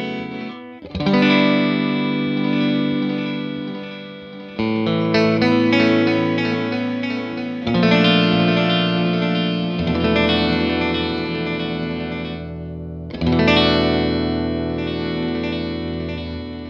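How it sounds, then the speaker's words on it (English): Electric guitar played through an Ernie Ball Ambient Delay pedal set for warm delay, sustained chords ringing out in several long swells, each tail echoing and blending into the next, with no talking. "you can fade in anything from about 50 milliseconds up to 1 second of warm sounding delay"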